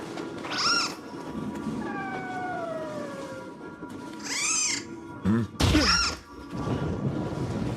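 Cartoonish meows from Scampus, a rotund cat-like yokai in a video game, come in three separate bursts with short thumps and a gliding tone between them, set over soft background music.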